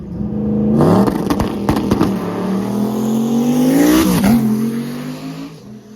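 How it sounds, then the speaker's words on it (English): A stick shift Mustang drag racing at South Carolina Motorplex revs hard and roars through its gears, loud and close, with sharp shifts and a rising, straining tone throughout. "Let's see what the nasty stick shift Mustang can put down here at South Carolina Motorplex."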